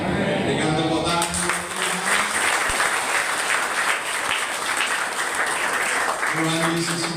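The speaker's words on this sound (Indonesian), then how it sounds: "Dengan tepuk tangan" Congregation applause at a Christmas church service, a steady wash of clapping with sustained voices or music tones underneath at the beginning and end.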